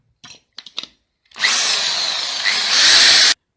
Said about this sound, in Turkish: Buradan bir tek buradan delmemiz yeterli olacak. Delelim.